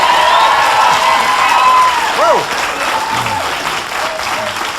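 A studio audience applauds and cheers for a comedy panel show guest, dense sustained clapping with whoops, loud at first then easing off, with a voice calling out over it.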